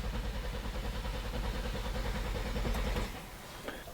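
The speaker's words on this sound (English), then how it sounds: "The engine sounds good." A Honda Pilot engine with a P2638 torque management fault runs with a steady, rhythmic chugging idle close by, then abruptly quiets near the end, leaving a faint hum and a small clatter.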